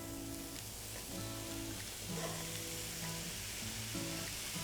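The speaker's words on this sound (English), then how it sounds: "now I'm going to add in our shiitake mushrooms" Shiitake mushrooms dropped into a hot, oiled pot, producing a soft, even sizzle with a low steady hum running underneath.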